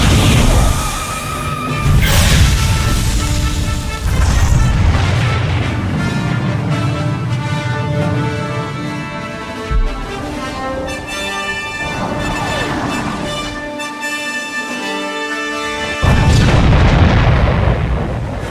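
A weapon launch in Star Wars: The Old Republic sets off a string of heavy booms and crashing explosions with rumbling, scattered debris, swelling again near the end, loud and dense.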